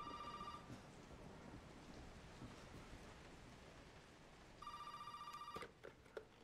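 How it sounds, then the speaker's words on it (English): A telephone ringing in the video game Resident Evil 7, with faint rain in the background: a quiet electronic ring bursts at the start, then a longer ring later, followed by a few soft clunks. "Oh, the phone's ringing."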